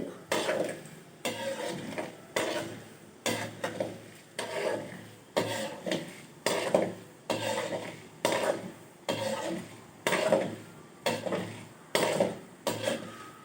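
Urad dal is stirred and scraped in a pan as it roasts, a steady rhythm of repeated scrapes and clatters about once a second, close and clear, with no voices.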